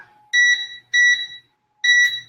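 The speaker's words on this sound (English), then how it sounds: "we always use an oven timer" An oven timer sounds three loud, clear electronic beeps in an irregular rhythm, each a steady high tone separated by short silences, in a home kitchen.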